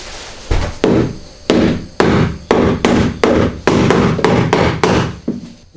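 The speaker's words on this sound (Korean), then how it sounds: "망치 한번 사용해봐요." Sharp, ringing hammer blows land one after another in a steady rhythm, about ten strikes close by, during installation of a Korean ondol floor heating system.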